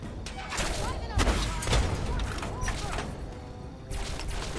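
Rapid bursts of gunfire in the video game Fallout 3, several sharp cracks and thuds clustered together over a busy game soundtrack, with voices shouting in between.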